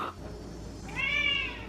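A big chunky pet cat lets out a single clear meow near the end, close and moderately loud over quiet room noise, with no voices.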